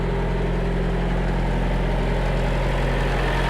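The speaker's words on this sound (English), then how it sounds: "there is a reefer trailer sitting here running with no tractor" A steady, droning mechanical hum of a reefer trailer's refrigeration unit running nearby with no tractor attached, constant and unchanging with a low engine-like rumble.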